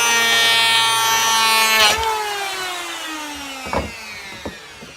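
A wooden board feeding through a thickness planer, a loud steady whine that drops in pitch under load, then cuts off into a couple of sharp knocks near the end.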